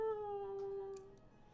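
A single cat meow, a drawn-out tonal cry fading over about a second, faint and alone against quiet background hiss.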